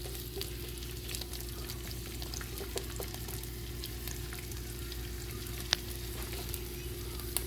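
Asparagus stalks cook in melted butter in a pan over medium heat, making a soft, even, continuous sizzle close by, with a low steady hum underneath and a couple of faint clicks.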